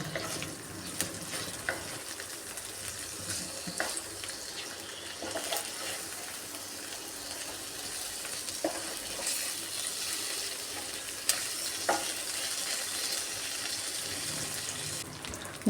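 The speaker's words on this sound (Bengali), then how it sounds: "মাছের মাথাটাকে লাল করে ভেজে নেব।" A hilsa fish head fries in hot oil with a continuous crackling sizzle, punctuated by sharp spatters and the scrape of stirring, fairly close and with no talking.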